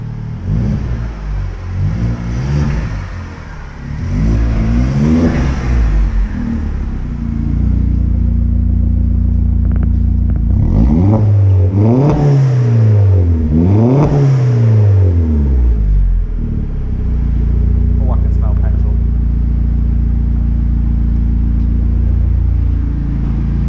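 An Audi S3 drives past while its engine revs up and falls back in repeated loud swells, then settles into a steady drone, close and loud with no talk over it.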